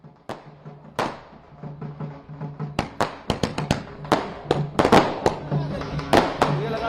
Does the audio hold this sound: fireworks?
yes